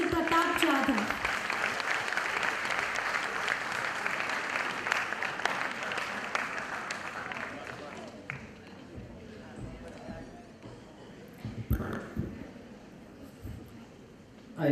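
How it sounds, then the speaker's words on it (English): Applause from an audience at a 2017 induction event, dense and sustained for about eight seconds before thinning into scattered claps and a lingering murmur. "A big round of applause for Mr. Pratap Jadhav."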